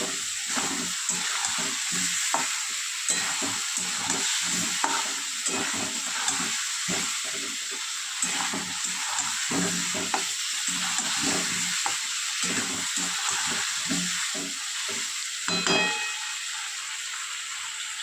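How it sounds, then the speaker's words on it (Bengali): Ground turmeric, cumin, coriander and chilli powder sizzle with a little water in a pan while new baby potatoes cook for alur dum, with steady frying hiss and frequent scraping stirs throughout, close and continuous. "হলুদ গুঁড়ো দিয়ে দেবো জিরে ধনে গুঁড়ো লঙ্কা গুঁড়ো অল্প জল দিয়ে খুব ভালো করে কষিয়ে নিচ্ছি"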